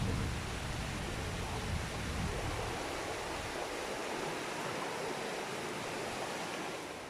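A farm river flows with a steady broadband rush of water, constant and fairly close, with a low rumble at the start that fades away.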